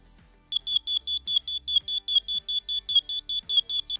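An Arduino OLED clock's alarm beeps in a rapid, regular series of short, shrill electronic pulses, loud and close, following a brief quiet moment.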